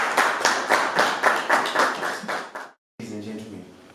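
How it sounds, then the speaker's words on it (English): For a high school team at a school competition, rhythmic group clapping beats in unison at a steady pulse, then cuts out briefly before a voice begins speaking. "Jameson, let's give them a round of applause."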